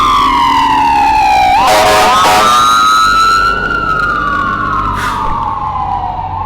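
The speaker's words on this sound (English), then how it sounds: "It's the Franklinton Fire Building, and you can see they're on a run right now." A fire engine from Engine House No. 10 in Franklinton, Columbus, Ohio, leaves the firehouse on a run with a loud, close siren. The siren wails and sweeps up and down, briefly chopping before it settles into a long fading tone.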